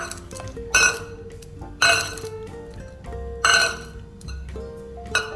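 A stainless steel cup clinks brightly four times at irregular intervals, each with a short shimmering decay, against a faint background hum.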